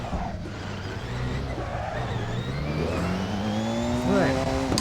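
Porsche 919 EVO race car in Assetto Corsa driving the Isle of Man TT course, its engine droning with rising pitch as it accelerates through gears, a steady roar with a brief surge near the end.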